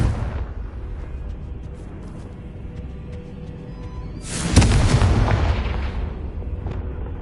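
The Confringo fire spell explodes in the game Hogwarts Legacy as a loud booming blast with a rushing roar that fades slowly. Steady noisy game ambience plays before and after it, and no one speaks.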